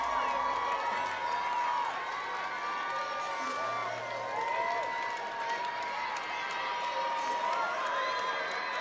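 Stadium crowd at a para athletics championships in London, a continuous broad roar of cheering and whistles with overlapping shouts, steady and fairly loud throughout, with no single voice standing out.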